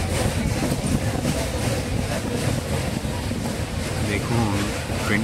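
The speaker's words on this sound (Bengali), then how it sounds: "দেখুন, ট্রেনটা এখন চলছে আমাদের কোলাঘাট ব্রিজের উপর দিয়ে।" The Tamralipta Express crossing the Kolaghat bridge at about 106 km/h, a steady, loud rumble of rolling wheels and rattling carriages heard from inside the train, continuous with no breaks.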